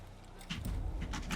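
Horse hooves clip-clop in the Assassin's Creed video game, a few close, muffled thuds starting halfway through and continuing in an uneven walking rhythm.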